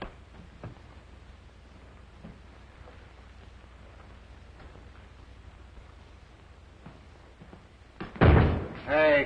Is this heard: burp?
no